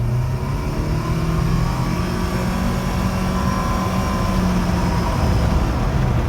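A 2013 Nissan Sentra SR with an Xtronic CVT accelerates from inside the cabin, giving a steady, droning engine hum with smooth, gradually rising pitch under constant road noise. No one speaks.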